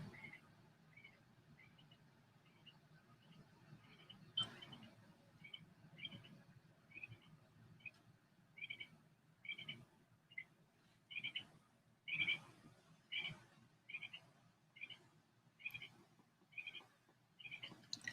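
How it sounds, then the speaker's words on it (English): A bird perched at the top of a chimney, its call echoing down the flue: a steady run of short, bright chirps repeating every second or so, faint and hollow over a low indoor rumble. "I think it might be a bird at the top of my chimney."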